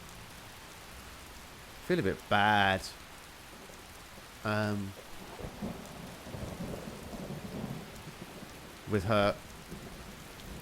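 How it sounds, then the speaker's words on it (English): Rain pattering steadily in the video game Skyrim, with low rumbles beneath; a person talks briefly over it in a few short bursts. "Gonna waiting out in the rain."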